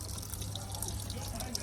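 Water running into a newly bought washing machine, a faint steady trickle and fill with a low hum beneath, heard up close and continuous.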